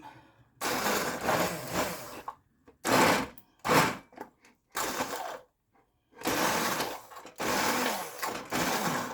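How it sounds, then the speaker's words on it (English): Immersion blender pureeing cooked red split peas and onions in a pot, running in loud repeated bursts of about a second each, with short gaps where the motor stops between pulses. "I'm going to take my immersion blender and we're going to blend this up"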